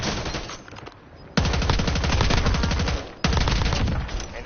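Loud, sustained automatic gunfire from Call of Duty: Modern Warfare rattles in dense rapid bursts, breaking off briefly twice before resuming at full intensity.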